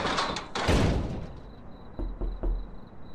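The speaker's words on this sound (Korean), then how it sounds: "아 이거 이상한 거야. 노크 소리가." In a Roblox horror game set at a shawarma kiosk, a door thumps and rattles in several heavy knocks and bangs, followed by quieter scattered taps and a faint high electronic tone.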